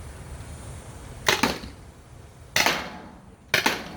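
Three sharp CO2 air pistol shots into cardboard, well spaced, each a crisp snapping crack with a short tail, heard close over a faint steady background hiss and no talking.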